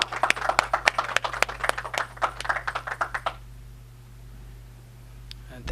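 Sparse, sharp claps from a small audience at a documentary screening event, a few hands clapping irregularly for about three seconds before fading into quiet room tone.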